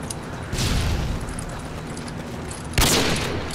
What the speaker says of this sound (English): Catch my grenade